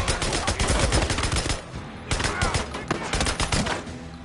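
Rapid bursts of automatic gunfire crackle in Days Gone, loud and close, in two long volleys separated by a brief pause, with faint shouting mixed in.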